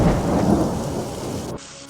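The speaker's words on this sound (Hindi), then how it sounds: "बारिश बहुत तेज पड़ रही है और बिजली भी चमक रही है।" Heavy rain pours down with a deep rumble of thunder, loud and close, then cuts off abruptly near the end.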